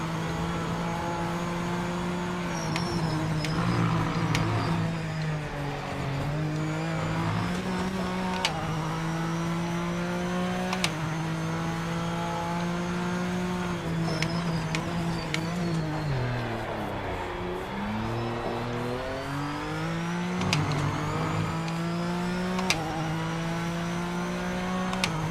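Racing video game car engine droning steadily with sustained tonal tyre slides and squeals, continuous and fairly loud throughout, no talking over it.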